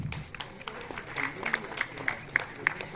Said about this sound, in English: Please give a thunderous applause to them.